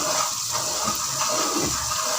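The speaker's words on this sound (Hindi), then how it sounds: "अब हम इसमें 2 कप के करीब पानी डाल देंगे।" About two cups of water poured into fried masala in a cooking pot, a loud, continuous rushing gush close by with no pause or voice.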